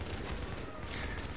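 Sustained automatic fire from an M249 light machine gun in the video game The Division, a dense, continuous burst with no clear gaps between rounds.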